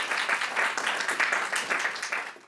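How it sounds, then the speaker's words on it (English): Audience applause fills a public lecture hall, dense and steady clapping from a crowd, moderately loud and continuous without a break. "We should give her a round of applause for organizing these events."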